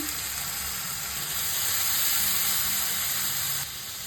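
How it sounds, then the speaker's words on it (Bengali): Nigella seeds and salted onion paste hit hot oil and sizzle in a dense, steady, close hiss that continues without a break and with no voices. "এই গরম তেলের মধ্যে কালো জিরে ফোড়নে দেবো বেটে রাখা পেঁয়াজ নুন"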